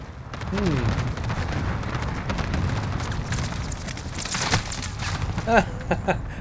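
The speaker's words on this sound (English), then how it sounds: "I was too busy watching the explosions." Explosions in Call of Duty Modern Warfare hardcore multiplayer, a dense rumbling roar of blasts and crackling gunfire under game radio voices and player talk.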